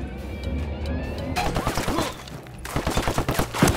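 Bursts of submachine gunfire in the Tom Clancy's Ghost Recon video game, fairly faint and distant, arriving in two short rattling volleys after a quieter opening stretch.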